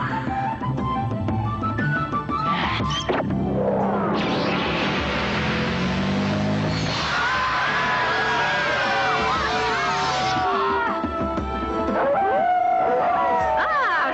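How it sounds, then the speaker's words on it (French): Several animals howl outside in a French animated episode, with long rising and falling wails that overlap and carry on loudly for around fourteen seconds and no speech over them. "Je les entends hurler à la mort."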